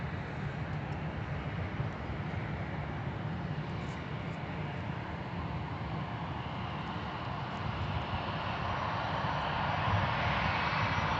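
An airliner takes off from runway 17 at MSP airport, a steady broad jet roar that holds evenly throughout at moderate distance and swells slightly louder near the end, with no voices.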